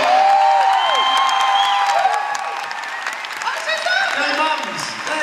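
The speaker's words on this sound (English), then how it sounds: "big round of applause for the parents of these excellent people" Applause and cheering from a large audience at a Comic Con panel in Philadelphia, loud and sustained throughout with whoops and shouts over dense clapping.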